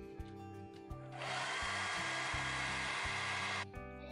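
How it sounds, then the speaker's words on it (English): A hair dryer gently warming the surface of a candle switches on into a steady, fairly quiet whooshing blow that lasts about two and a half seconds and then cuts off, with soft background hum before and after. "I'm just going to gently warm the surface with my hairdryer"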